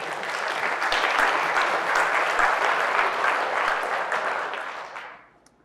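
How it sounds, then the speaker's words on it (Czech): Dense, sustained applause from a large WordCamp Prague conference audience holds steady, then tapers off and fades out over the final second. "To chce potlesk."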